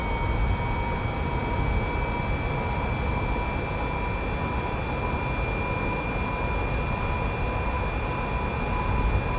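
Electric semi truck motor at full throttle in American Truck Simulator, a steady dense roar with high whining tones, jet-like, continuous and loud with no talk.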